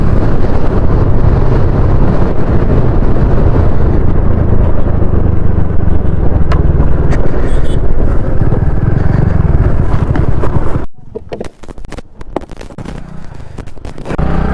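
Strong wind buffets the microphone in a loud, constant roar that suddenly drops away near the end, leaving quieter rustling outdoors.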